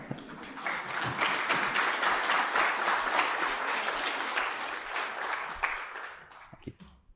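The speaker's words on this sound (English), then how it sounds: "I don't have to ask people to applaud, but they just do spontaneously" A conference audience breaks into steady applause after a technical talk on floating-point debugging tools. The dense crowd clapping is moderately distant, swells and holds for several seconds, then fades out with a few last claps.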